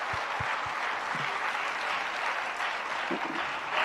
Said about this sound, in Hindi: जरा एक दूसरे के लिए तालियां बजा दीजिए